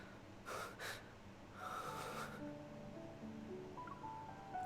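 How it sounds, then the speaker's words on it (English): Man breathing heavily in another room, from the video game Love and Deepspace; a few sharp snorting inhales and gasps, then a longer rough exhale, muffled and moderately distant over a low ambient hum, with no talking. "How loud is he breathing in the living room?"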